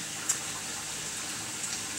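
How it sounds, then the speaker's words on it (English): Hot water running steadily from a tap, a faint, even hiss with no change over its length and a soft click or two, quiet and close. "I have the water running so that it's at the hottest temperature"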